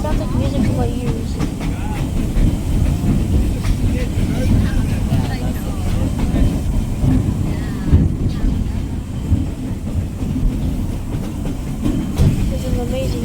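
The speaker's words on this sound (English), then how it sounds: "I love it when the train whistles." An Oregon Coast Scenic Railroad train runs near Tillamook with a steady low rumble and clickety-clack of wheels on rails, loud and continuous, while people talk over it.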